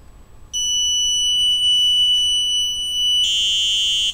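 A buzzer wired to a Wio LTE microcontroller board sounds while its button is held, a loud, piercing, steady electronic tone that switches on abruptly and runs unbroken, growing harsher near the end.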